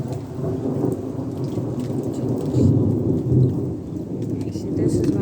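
Thunderstorm over a rural homestead, steady rain pattering on surfaces beneath low rolling rumbles of thunder that swell and fade, close and continuous.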